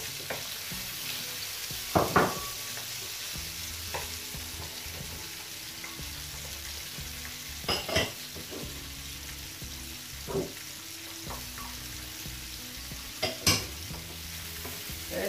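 Mixed vegetables, including peppers, stir-fried in a pan for crunchy vegetable noodles, giving a steady close sizzle with a few sharp clatters of stirring scattered throughout.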